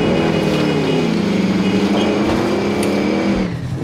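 A car drives in a video game, its engine tone rising and falling in pitch as it revs, steady and prominent throughout with no talking.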